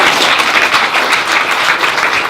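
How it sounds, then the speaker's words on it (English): Wedding guests at a reception applaud during the speeches, a loud, dense wash of many hands clapping that holds steady throughout with no talk over it. "Do we have a round of applause to Sophie?"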